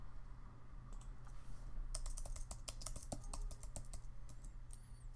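Fingers type on a computer keyboard in a quiet room, tapping in a soft, irregular run of close clicks with short pauses between bursts.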